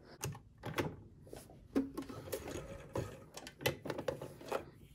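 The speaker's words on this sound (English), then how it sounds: "When I get to the end, I usually do the same thing and do about 2 or 3 reverse stitches right at the end." Kenmore 385 series sewing machine running a short burst of reverse backstitches, a close, quick mechanical chatter of needle strokes with small stops and restarts.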